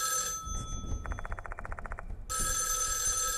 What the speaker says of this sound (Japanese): 突然、電話のベルの音が鳴り響く。